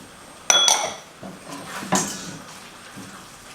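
A spoon clinks and scrapes against a pot while butter and Parmigiano are stirred into Venetian risotto, two sharp metallic knocks followed by softer stirring sounds, close and with no one talking.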